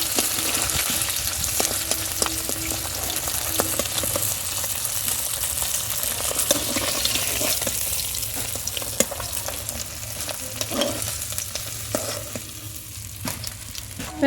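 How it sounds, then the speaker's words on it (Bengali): Khoira fish sizzles steadily in hot oil in a home kitchen, cooked for a curry with yam. A dense, even crackle runs throughout with scattered pops, close by and with no talking. "এই মাছটা খুব বেশি ভাজা যাবে না হালকা হালকা মাছ ভেজে নেবে"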